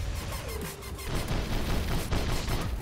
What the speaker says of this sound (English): I'm dropping him through his entire shields here. With the explo shotguns.